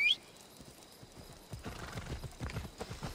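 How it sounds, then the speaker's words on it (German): Horse hooves clip-clop steadily in Assassin's Creed Odyssey, with a short whinny at the start, then a brief quiet stretch before the hoofbeats pick up again, close and moderately loud. "wir holen unser Pferd"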